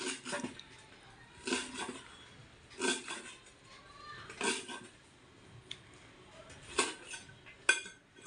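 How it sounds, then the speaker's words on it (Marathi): Knife chopping fresh coriander finely on a board in a home kitchen, with sharp irregular chopping taps in loose bursts at close range over quiet room background. "बारीक कोथंबीर कापायला लागले"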